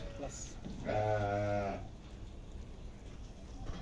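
A lamb bleats on a sheep and goat farm: one drawn-out, wavering bleat that stands out clearly above steady background noise, with no other calls following.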